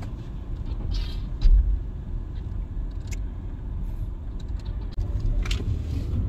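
A Neta V electric car drives with a steady low road rumble and a faint airplane-like whine, continuous and moderately loud with a brief bump partway through.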